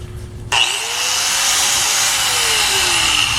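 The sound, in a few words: electric grinder cutting a metal plate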